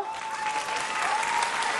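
A studio audience at a Georgian TV talk show claps steadily and warmly throughout, a dense continuous applause with a faint sustained tone beneath it.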